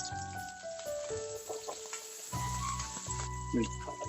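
Green chillies and curry leaves sizzle in hot frying oil for a fish curry, giving a crackling, hissing spatter that swells and fades in bursts. A tonal background sound runs underneath the frying.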